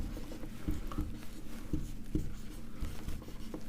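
Chalk or marker tapping and scratching out a chemical formula on a board in short, uneven strokes, up close, with no talking over it.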